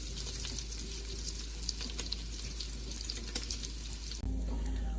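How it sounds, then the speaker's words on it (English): Bacon frying in a pan for a loaded potato soup, a steady dense sizzle with scattered spits and pops, loud and close throughout, with a brief shift in tone near the end. "Careful of the bacon. Likes to spit all over the place."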